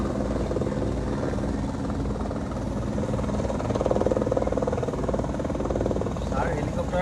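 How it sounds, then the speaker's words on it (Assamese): A helicopter departs with a steady, loud rotor and engine drone that swells briefly midway, with voices talking underneath it. "হেলিকপ্টাৰ গৈছে এতিয়া"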